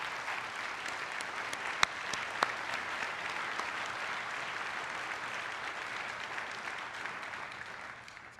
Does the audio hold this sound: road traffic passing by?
no